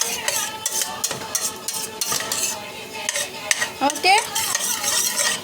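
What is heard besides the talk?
stirring egg poriyal in a pan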